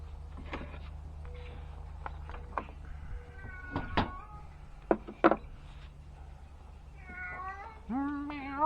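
A cat meows several times, short close cries scattered over a quiet room with a low background hum and a few knocks, ending in a longer drawn-out meow.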